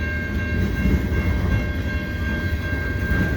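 A long CN freight train rolls past in a snowstorm, a loud, steady rumble of cars and wheels with a sustained high tonal whine, close and unbroken throughout.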